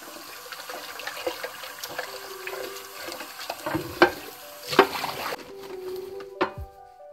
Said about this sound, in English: So I'm going to start by soaking some more sphagnum moss.